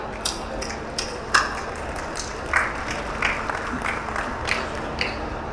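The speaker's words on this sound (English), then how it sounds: "Huge round of applause, everybody." Audience at a crypto expo in Dubai applauding after a host's call, a thin scatter of claps over steady room noise with a faint hum, moderately distant, no clear speech.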